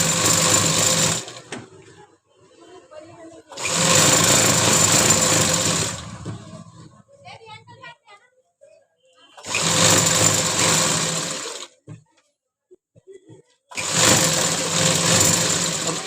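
A sewing machine stitches a seam on a dhoti salwar in four loud, close bursts of rapid mechanical whirring, separated by quiet pauses with small handling sounds.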